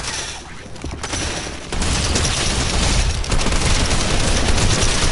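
Dense, continuous video game gunfire with rapid bursts and booms filling the whole stretch, loud and close, growing heavier partway through.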